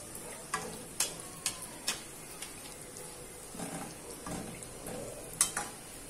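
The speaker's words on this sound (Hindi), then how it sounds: "और मीडियम फ्लेम पे मैं इनको फ्राई कर रही हूँ।" Donuts frying in oil over a medium flame, a soft steady sizzle under a series of sharp ticks and taps from a utensil, fairly close and quiet.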